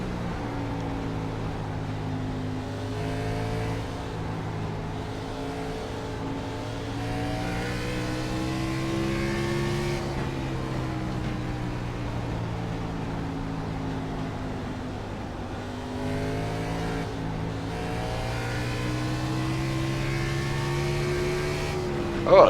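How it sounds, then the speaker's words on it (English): A race car engine drones steadily throughout a 150-lap race at Lucas Oil Raceway in Indianapolis. Its pitch rises and falls as the driver works the throttle through the turns, loud and continuous. "You can hear him throttling going through them turns here."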